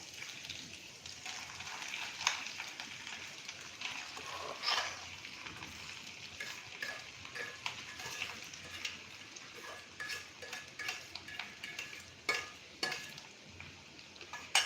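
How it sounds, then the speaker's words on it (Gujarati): Mashed potatoes are stirred into hot oil with ginger, chili and garlic paste in a pan over a low gas flame. A soft, continuous sizzle runs under scraping and clinking utensil strokes that grow more frequent toward the end, with no talking. "હવે આપણે એમાં નાખીશું બટેટાનો, આપણે પીસેલા છે બટેટા"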